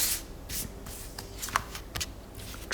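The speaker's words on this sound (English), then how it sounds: "If nothing is flying out during that shuffling time, and I'm gonna draw one." Tarot cards being shuffled by hand in a steady run of riffling, rubbing swishes with a few sharper card slaps, close and moderately quiet, with no talk.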